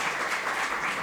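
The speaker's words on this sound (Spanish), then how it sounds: "un fuerte aplauso para los hermanos adoradores" Brief burst of applause from a church congregation, a dense, even patter of many hands clapping together at moderate loudness with no talk.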